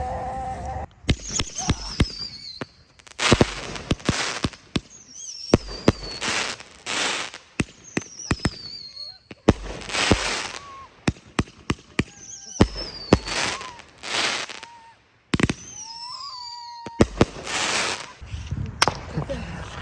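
Fireworks launched in an open field: repeated whistling rockets rise and burst into sharp bangs and crackles, an irregular volley of loud reports spread over about twenty seconds.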